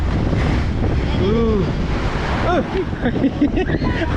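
Loud, steady strong wind buffets the microphone with a constant low roar on a coastal road in Siargao, mixed with surf-like rushing; faint tonal sweeps drift through the background.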